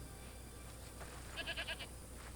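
A goat bleats in a quick run of four or five wavering calls, heard moderately close over a steady hiss of background noise in a TV show scene, with no talking over it.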